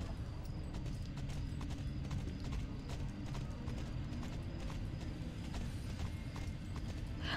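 Steady clip-clop of a horse's hooves while riding in the video game Starshine Legacy, a continuous even rhythm under soft background music with no talk.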